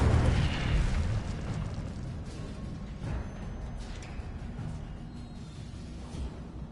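A fire spell cast in Hogwarts Legacy erupts as a loud burst of roaring flame, then settles into a steady crackling rumble that slowly fades.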